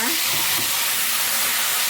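A blended paste of chili, tomato, shallot and garlic sizzles loudly and steadily in hot oil, a dense close hiss of frying with faint stirring underneath and no talk.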